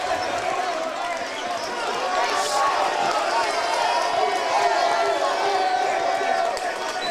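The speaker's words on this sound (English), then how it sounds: "The crowd's going wild" Basketball crowd at a Region 4 community college championship cheering after a Cougars win, a steady wide roar of voices and shouts filling the gym without pause.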